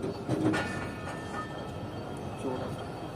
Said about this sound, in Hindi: तो सिर्फ 1 मिनट रुकने के बाद ट्रेन डिपार्ट कर रही है लंगर रेलवे स्टेशन से।